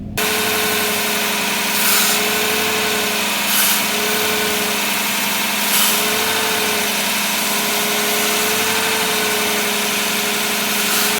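A car engine held at 1500 RPM by a scan tool runs at a steady, raised speed, a constant close hum with slight wavering in pitch and no voices.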